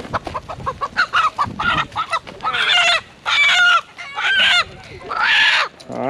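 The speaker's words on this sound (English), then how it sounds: "we've already caught 4 roosters, and we're gonna catch the rest of them" Roosters on a farm squawk and crow loudly and close by as they are chased and caught, with repeated frantic clucking bursts and several long crows.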